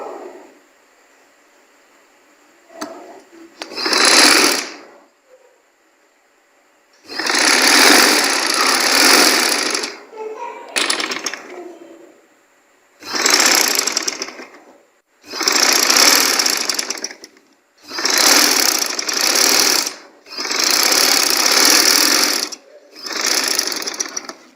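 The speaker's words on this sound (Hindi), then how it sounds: "अब उसको यहाँ पे रख के इस डिज़ाइन को इसके ऊपर इस तरीके से सिलाई कर लेना है।" Sewing machine stitching a pintuck and pearl design onto trousers, running in repeated bursts of a few seconds each with short gaps between, close and clear with no speech.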